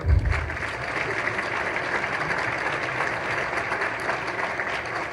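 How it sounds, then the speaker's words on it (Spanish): Audience applause at the inauguration of the XII ALBA Summit, as Evo Morales is introduced; a moderate, steady bed of many hands clapping continues throughout, somewhat distant and even in level. "Hay que hacer la pausa con Evo porque siempre lo aplauden."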